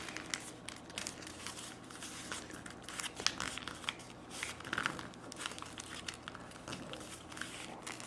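Paper being folded into a paper F-14 Tomcat, soft close crinkles and crisp creasing sounds scattered irregularly, quiet and without any voice.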